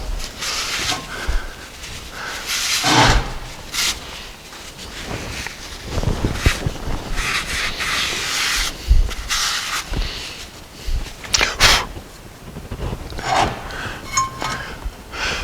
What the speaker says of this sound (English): Brake cleaner, clean it off the drum.